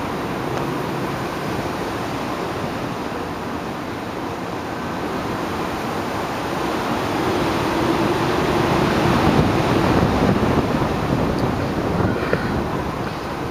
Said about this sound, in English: if this wind goes, I hope that branch up there don't fall.